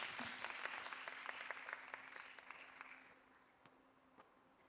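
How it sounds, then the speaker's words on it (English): An audience at a Miss World pageant claps in a burst of applause that starts strong, then thins out to scattered claps and fades toward the end. "Big round of applause if you take your place backstage."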